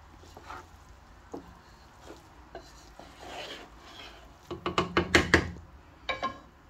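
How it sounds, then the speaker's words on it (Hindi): Metal spoon stirring sugar into rice in a pot, scattered soft scrapes and taps that build into a quick run of loud clinking knocks against the pot, then a last few scrapes. "थोड़ी सी चम्मच चला लेंगे ताकि चीनी सारी सारे चावलों में मिक्स हो जाए।"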